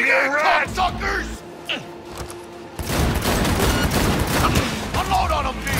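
Gunfire in the video game Cyberpunk 2077 starts as yelling and scattered shots and then builds into a loud, sustained burst of automatic fire, with shouted voices over the battle.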